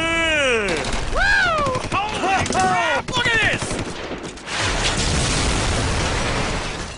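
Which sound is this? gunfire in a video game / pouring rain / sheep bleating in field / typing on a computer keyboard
gunfire in a video game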